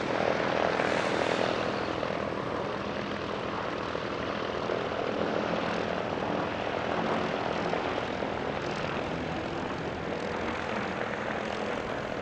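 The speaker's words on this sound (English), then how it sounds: "Now the Flying Bull's Corsair joins up with a second F4U" Vought F4U Corsair warbirds fly at an airshow, one of them the Flying Bull's. The big radial engine drones as a continuous rough roar that stays fairly even, with a brief swell near the start, and there is no talk.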